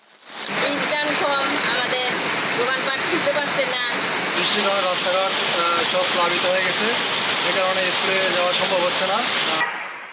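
Steady rain in Dinajpur, Bangladesh hisses loudly throughout while a person talks over it nearly the whole time.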